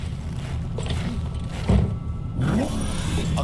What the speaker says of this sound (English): I'll keep the engine running in case of a cock-up